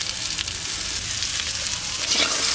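Potatoes and onions fry in a pan with black cumin seeds and green and dried chillies, giving a loud, continuous close sizzle with occasional stirring and no voices.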